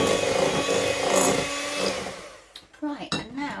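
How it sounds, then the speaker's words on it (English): Electric whisk beats 125 grams each of butter and self-raising flour for a sponge pudding, a steady loud motor whir that cuts out after about two and a half seconds, followed by a few clattering knocks. "I'm just going to whisk these together until they're light and fluffy"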